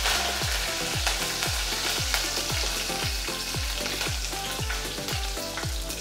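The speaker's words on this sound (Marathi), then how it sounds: "आणि आता आपण याच्यामध्ये थोडासा कढीपत्ता घालणार आहोत." Curry leaves spit and crackle in hot oil in a pan for kande pohe, a loud, dense frying sizzle with a fast, regular pattern of popping bursts.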